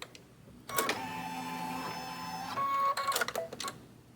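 A quilting machine running and stitching, a steady motorized whir with a tonal hum that starts abruptly, holds for a couple of seconds, then shifts into a busier, louder burst before stopping.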